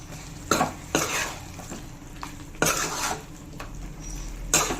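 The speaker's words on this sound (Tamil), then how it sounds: "சேர்த்துட்டு மறுபடியும் நல்லா கலக்கி விட்டுக்கலாம்." Masala with added chilli powder is stirred in a pan, with a low sizzle under a series of distinct scrapes and clanks of a utensil against metal, close and irregular, and no speech.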